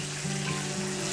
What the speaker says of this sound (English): I recommend to use the big fry pan so that you can fry all of them at the same time